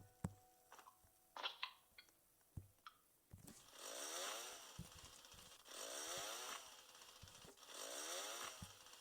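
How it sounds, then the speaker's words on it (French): A chainsaw in the Roblox game revs in three repeated bursts, each a rising buzzing whine, after scattered clicks and small thuds; faint and fairly distant, with no talking. "Oh, il y a une tronçonneuse"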